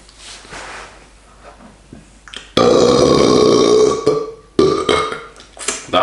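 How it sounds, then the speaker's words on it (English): A man lets out a loud, drawn-out burp after drinking Svyturys Balta Lithuanian wheat beer, close and prolonged, followed by a second shorter belch and quieter rustling. "That's what wheat beer does to me, you see,"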